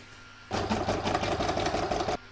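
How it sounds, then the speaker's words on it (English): An embroidery machine stitches the edge of an in-the-hoop crazy patch bookmark, giving a close, steady buzzing run with a fast rhythmic needle pulse for about two seconds, then stopping. "now I'm going to pop that back in my machine and stitch round 7, which is going to do the edge"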